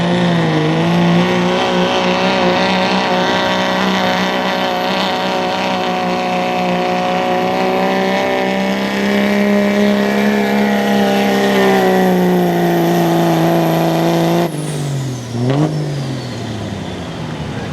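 A diesel pulling truck revs hard and continuously at a truck and tractor pull. The loud, sustained engine roar holds a steady pitch and then drops sharply near the end as the throttle comes off.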